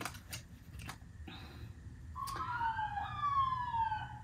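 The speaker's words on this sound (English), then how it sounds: "sorry for the sirens" Emergency sirens pass outside a home, a rising and falling wail that swells in the second half, heard faintly through the walls alongside a few soft clicks and knocks nearby.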